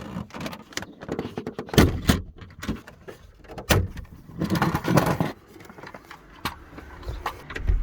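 Plastic corner trim pieces pried off the dashboard of a Renault Espace IV, sharp clicks and snaps of releasing clips mixed with rustling plastic handling, close and fairly loud, with no talking.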